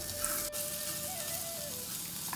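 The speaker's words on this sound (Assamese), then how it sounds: "আদাখিনিৰ কেঁচা গন্ধ নাযায় মানে এনেকৈ এতিয়া তেলত ভাজি থাকিম" Ginger frying in oil for a rosella leaf chutney gives a continuous gentle sizzle and crackle, faint and steady, with a thin tonal whine running above it and no talk.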